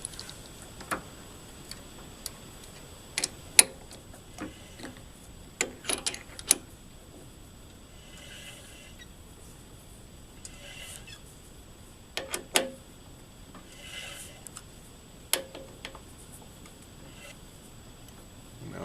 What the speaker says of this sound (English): get the tap started while it's in the drill press here